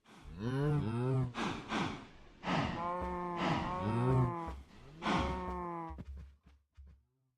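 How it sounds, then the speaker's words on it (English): Several cattle low in a Minecraft farm, a run of loud, drawn-out moos close by that overlap one another, followed by a few short bumping sounds. "Oh, we have 9 cows"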